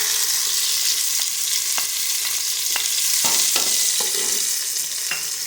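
Ginger, garlic and green chilli paste frying with golden onions for haleem, a loud continuous sizzle with scattered spoon scrapes and clinks throughout.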